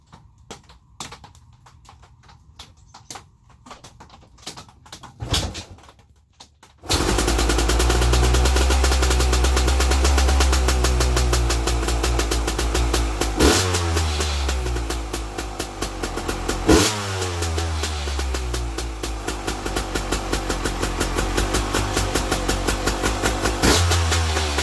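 Husqvarna TC300 dirt bike, left sitting overnight in a shed, kicked over after a few quiet knocks and catches, then a loud, close two-stroke-style engine idling and revving in sharp bursts, with no talking.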